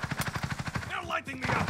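DMR 14 rifle fired in Call of Duty Warzone on Rebirth Island: a quick, evenly spaced string of about eight sharp shots, followed by a voice talking.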